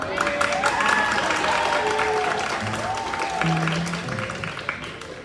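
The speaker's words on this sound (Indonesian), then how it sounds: "Tepuk tangan dulu dong." A group claps together in a dense, steady burst that fades slightly toward the end, with voices and other sounds mixed underneath.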